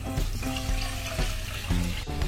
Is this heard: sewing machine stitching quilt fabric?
no